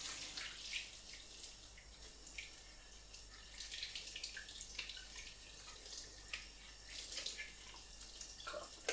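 Warm tap water runs and splashes into a Tefal Supermix blender jug being rinsed for cleaning, a faint steady hiss broken by soft irregular drips and gurgles.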